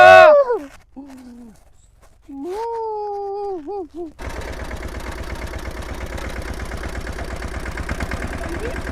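A tractor engine idles with a steady low mechanical chugging, starting abruptly and running continuously after a few short vocal or whistling sounds.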